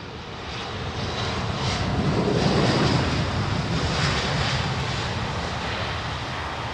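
A Thai Airways jumbo jet flies past with a loud, steady broadband roar that swells toward the middle and holds, with no voices over it.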